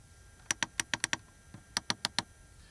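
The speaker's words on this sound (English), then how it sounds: "The lower area still has a separate climate function with a nice clicking sound." Climate control buttons in a 2019 Mercedes B-Class give crisp, close clicks: a quick run of six presses, a pause, then another four in steady rhythm.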